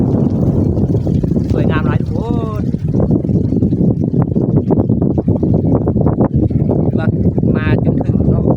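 Strong wind on the Pha Chang mountain summit roars steadily into the microphone as a loud, low buffeting rumble, broken by a few brief whistling, voice-like tones.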